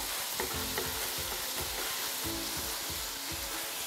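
Sausage browning in a skillet on a stovetop for lasagna, a steady dense sizzle with a spoon tapping and scraping the pan in repeated strokes, close and continuous with no speech.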